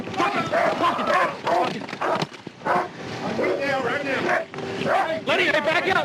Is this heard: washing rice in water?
no